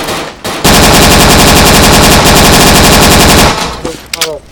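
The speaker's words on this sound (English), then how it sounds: "Heavy machine gun." A heavy machine gun in the World War II dinosaur shooter game Dino D-Day fires a loud, continuous rapid burst of close shots lasting about three seconds, followed by a few trailing sounds.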